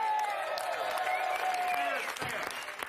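A panel audience breaks into applause, a dense wash of clapping that fills the room and stays loud for a few seconds before fading slightly, with a voice faintly heard beneath it.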